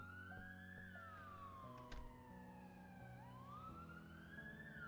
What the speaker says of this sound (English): Why is the siren going off?